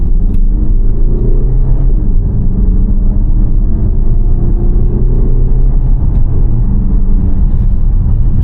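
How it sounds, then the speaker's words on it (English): A 2025 VW Tiguan R-Line with a 2.0 TDI diesel, 4Motion and DSG, accelerating hard as heard from inside the cabin. The engine drone is loud and steady, rising in pitch through the pull with a smooth shift partway. "I think here I'll boot it a bit and we'll experience the acceleration"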